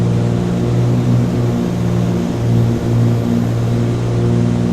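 Twin piston engines of a Cessna 414 in Microsoft Flight Simulator 2020, a loud steady drone with layered tones that beat and waver slightly as the two propellers drift out of sync.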